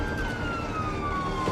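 An ambulance siren wails continuously while the vehicle runs on blue lights along the M5 motorway, a steady loud tone that slides slowly downward over road rumble, with no talk.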